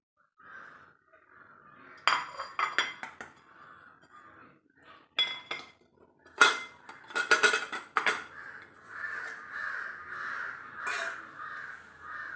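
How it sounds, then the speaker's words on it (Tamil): A knife clinks and scrapes around the edges of a cooled homemade Oreo biscuit cake, then the cake is shifted onto another plate with scattered clinks and scrapes of cutlery and dishware, with crow caws in the background. "சைடில் ஓரமாக லேசாக கட் பண்ணி விட்டு அதை அப்படியே வேறு பிளேட்டில் மாற்றி எடுத்துடலாம்."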